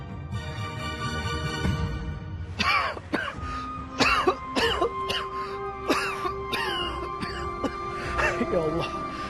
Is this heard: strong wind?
no